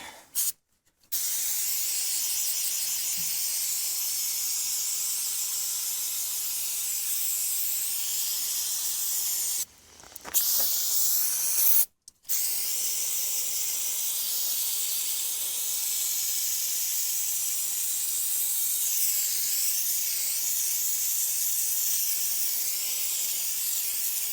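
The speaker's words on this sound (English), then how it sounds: "it's going to be a quick carb clean, just so that gunk doesn't fall into the tank." Carburetor cleaner sprays near the fuel tank of a square body Suburban, a steady, close aerosol hiss held for long stretches, broken by a couple of short pauses and brief clicks of the nozzle, with no talking.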